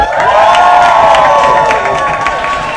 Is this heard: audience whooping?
yes